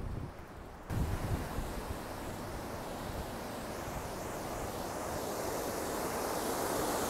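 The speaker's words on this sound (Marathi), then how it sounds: "आता मी तुम्हाला दाखवते की पाणी किती भरलेलं आहे ह्या डॅममध्ये." Water in a full dam beside the dam bridge in Michigan: a continuous broad rushing roar that grows slightly louder, mixed with wind buffeting the microphone, and no talk.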